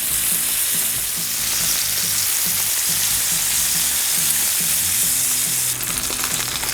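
Bacon sizzling on a Blackstone griddle, a dense continuous crackling fry heard up close and at steady volume, with a brief scrape near the end and no voices.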